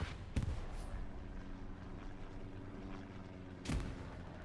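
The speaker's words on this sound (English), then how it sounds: "Grenades coming in from Smile." Grenade explosions in a World War II shooter match, two sharp booms about three seconds apart over a continuous low rumble of distant battle, fairly faint.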